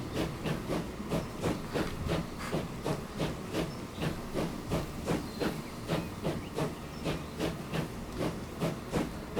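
Steam trains run on a new line in Transport Fever 2, with a rhythmic chuffing hiss repeating evenly at about two beats per second over a low rolling rumble, steady and moderately loud.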